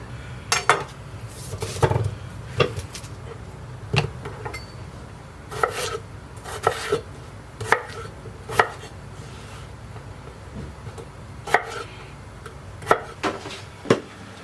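A knife chops potatoes into one-inch pieces on a board, with sharp, close thunks that fall irregularly every second or so over a low background hum, and no talking.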